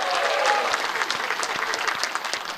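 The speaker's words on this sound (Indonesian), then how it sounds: "Kita berikan tepuk tangan yang meriah untuk keempat pasangan calon." A crowd at a televised public debate for Sorong mayoral candidates gives a lively round of applause, dense, bright clapping that is loudest at the start and gradually thins and softens over under three seconds.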